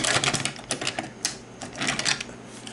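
A Kirby upright vacuum's drive transmission clicks after being shifted from neutral into drive, giving a rapid, irregular series of close, sharp mechanical ticks with no talking.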